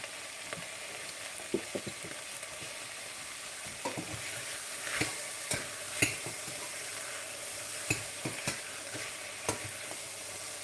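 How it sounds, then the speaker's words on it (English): Tomatoes sweating with a teaspoon of salt in a pan for chanterelle mushroom soup: a soft, even sizzle broken by frequent light scrapes and taps of a utensil stirring, close and steady, no talk. "You want to sweat the tomato."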